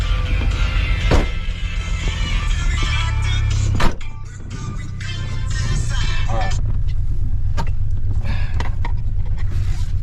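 A restored DeLorean's cold engine runs with a steady low rumble throughout, interrupted by a sharp knock near four seconds, then settling into a continuous idle-to-driving drone with faint clinks.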